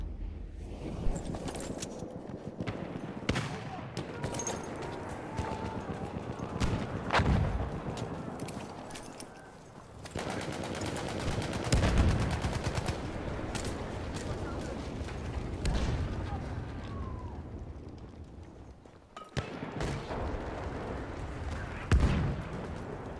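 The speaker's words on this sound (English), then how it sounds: "Enemy machine gun sighted." Rapid bursts of machine gun fire mixed with explosions and battlefield din in Battlefield 1, dense and continuous with louder blasts near the middle and end, and a game voice calling out over it.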